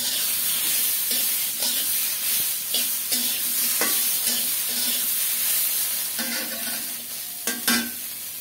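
Ginger-cumin paste fries with pointed gourd and potol in a pan, giving a steady moderate sizzle broken by rhythmic stirring scrapes and occasional spatula knocks.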